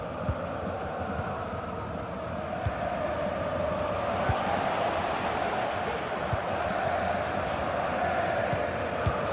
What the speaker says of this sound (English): You can sense how annoyed the crowd are.